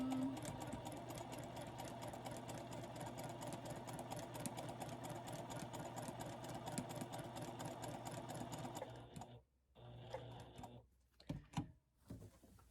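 A sewing machine stitches a linen tunic in a rapid, even mechanical patter for about nine seconds, then halts, followed by a few brief bursts of stitching and handling sounds up close.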